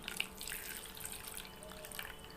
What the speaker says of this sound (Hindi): इसके बाद अब हम इसके अंदर डाल देंगे गर्म पानी